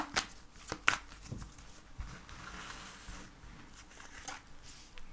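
Tarot cards shuffled by hand at close range, a steady soft papery riffle and patter with a few sharper slaps, no voice.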